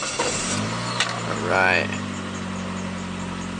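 Saab 9-3 convertible engine cold-starting at 24 degrees with a fresh Interstate battery: a brief cranking burst then a steady idle hum, with someone speaking briefly over it.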